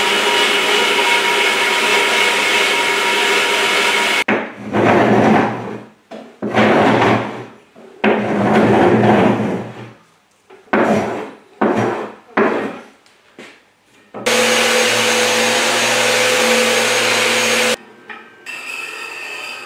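Hand sawing through wood to cut out a chair leg, with bursts of rasping strokes broken by short pauses and louder sustained machine-like stretches, close and loud.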